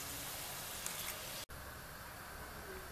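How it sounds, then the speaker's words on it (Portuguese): Homemade pastel pastries fry in very hot fat, producing a steady, dense sizzling hiss close by, with a momentary dropout midway before the crackle resumes unchanged. "A gordura tem que estar bem quente. Olha que maravilha. Aí vamos fritando um por um"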